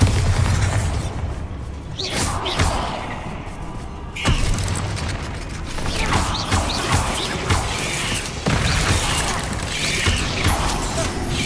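Bombarda blasting spell from Hogwarts Legacy, heard as heavy crashing, booming impacts and rattling mechanical debris in a dense, continuous wash of game sound with little pause.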